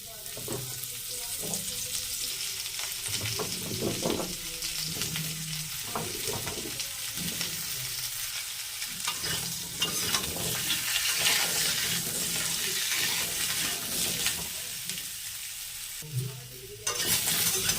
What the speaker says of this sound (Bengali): এবার ভেজে নেব ডাঁটা আলু, সজনে ডাঁটাগুলো